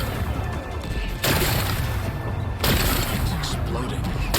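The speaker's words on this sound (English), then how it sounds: "It's exploding." Explosion in Horizon Forbidden West, with two sudden loud crashing bursts about a second and a half apart, each followed by a dense roaring wash of debris and rumble, and a voice talking over it.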